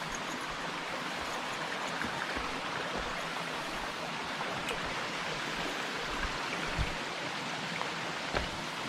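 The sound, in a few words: water flowing at a small creek crossing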